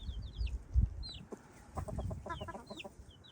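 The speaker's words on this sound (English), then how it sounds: "Here's a hen. That's her. These are her chicks." A hen clucking among her chicks in a flock, low soft clucks joined by repeated high peeping chirps from the chicks, close and fairly quiet with no talk.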